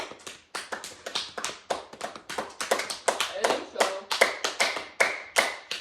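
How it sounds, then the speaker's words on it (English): A few people clap by hand after a slideshow presentation, producing a quick run of sharp, close taps in an uneven rhythm while a voice talks over them. "Can I clap for you?"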